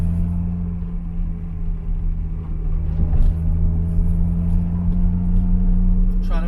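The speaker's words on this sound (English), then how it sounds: "Clutch in, neutral, clutch out, clutch in, shift gear," Car engine rumbling steadily during a double-clutch gear shift, a low, continuous idle-like drone heard from inside the vehicle, close and fairly loud.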